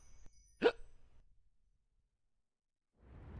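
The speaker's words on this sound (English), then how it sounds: "Getting mad hiccups." A man playing Elden Ring hiccups once, a single short, sharp close-up hiccup in a quiet room, followed by soft background noise.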